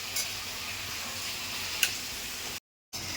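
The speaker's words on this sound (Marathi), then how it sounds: "ते आता थोडे ना तेलामध्ये फ्राय करून घ्यायचंय." Capsicum and onion frying in oil in a home kitchen pan, a steady soft sizzle running throughout, with one brief click partway and a short silent gap near the end.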